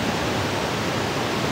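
Steady, broadband roar of a waterfall close to a campsite in Lauterbrunnen, Switzerland, an unbroken wash of falling water with no voices.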